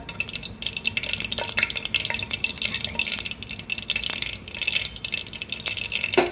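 Cumin, onion, mustard seeds, whole spices and bay leaf sizzle steadily in oil in a pan, with occasional stirring clinks and a continuous bright crackle throughout.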